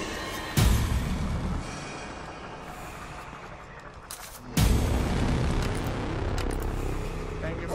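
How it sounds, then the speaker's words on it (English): Gunshots and heavy booms from the survival horror game The Evil Within 2, two loud blasts a few seconds apart with rumbling noise between them. "Thank you for the gunfire."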